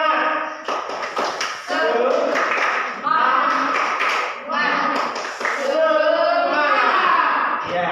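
Students doing a rhythmic spirit clap in a classroom, chanting loudly together while sharp group claps punctuate the chant in a quick patterned beat.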